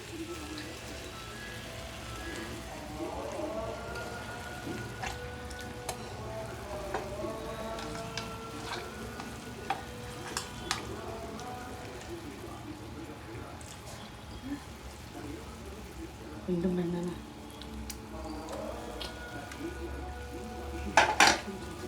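Tamarind pulp cooks in oil in a pan, a faint sizzle under clinks of a metal spoon against the pan. Someone speaks over it throughout.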